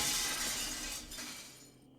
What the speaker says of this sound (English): they can hear me smashing the glass